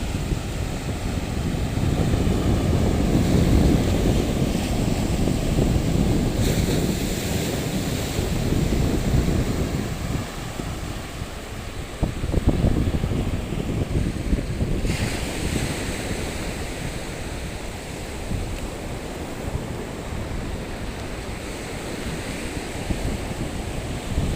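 Strong ocean waves crash and wash continuously onto the shore at Real, Quezon in the Philippines, a loud, close surging roar mixed with wind buffeting the microphone, with no speech.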